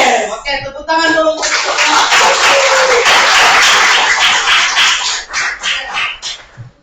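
A classroom of students applauds together, a dense burst of clapping that swells and holds for several seconds before thinning into a few scattered claps, with brief voices at the start.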